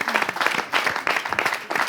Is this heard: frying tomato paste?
no